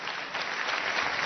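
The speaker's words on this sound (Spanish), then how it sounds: "pidiendo amablemente de parte de todos los presentes un minuto de aplauso para nuestros jóvenes héroes y heroínas que murieron en combate contra el agresor invasor." Steady, dense applause from an assembled audience during a minute of clapping in honor of young fallen heroes in Venezuela, a continuous even wash of many hands.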